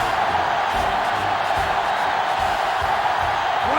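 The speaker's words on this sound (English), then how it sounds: "This sellout crowd is really making a difference now as these guys can't even call the play" A sellout stadium crowd in the video game NCAA Football 07 roars in a steady, dense wash of cheering and whooping at a Michigan at Iowa game, loud and continuous, with faint commentary beneath.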